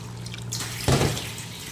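Water from a tap splashing while fish is rinsed, a soft trickle with one brief louder splash, close by.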